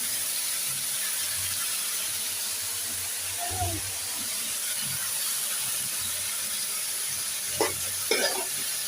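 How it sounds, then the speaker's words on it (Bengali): Chopped leafy greens hit hot oil in a kadai, giving a steady broadband sizzle with occasional stirring scrapes and clatter of the utensil, heard close and fairly quiet with no talk. "এখন এই যে শাকটা দিয়ে দিচ্ছি শাকটা ধুয়ে কুচি কুচি করে কেটে রেখে দিয়েছি"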